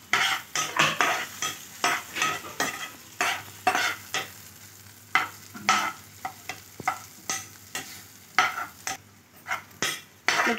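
Chapati noodles and coriander powder get stirred in a pan, with a rhythmic run of scraping utensil strokes over a light sizzle, close and repeated steadily without talk.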